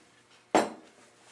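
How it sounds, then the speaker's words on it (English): A saute pan, a flat one, set down on a stove gives a single sharp metallic clank followed by a short fading ring, close and moderately loud in an otherwise quiet kitchen. "So now take a saute pan, a nice flat one, and put a tablespoon of oil in it."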